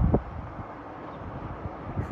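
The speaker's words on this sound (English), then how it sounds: "A little breezy." Breezy outdoor wind on the west shore of Okanagan Lake makes a steady, low rushing roar of wind buffeting the microphone, with a few soft gusty thumps.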